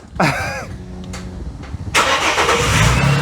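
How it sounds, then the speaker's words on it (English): A car engine cranks with a whirring starter, catches on a second attempt and settles into a loud, close idle, with no talk over it. "Why don't you turn the car on?"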